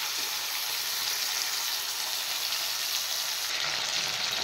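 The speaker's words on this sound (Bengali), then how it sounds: "তেল গরম হয়ে গেছে, এবার আমি মাছগুলো ছেড়ে দেব" Pieces of fish spitting in hot oil fill the scene with a continuous, even sizzle and crackle, fairly quiet and close, unbroken throughout with no speech.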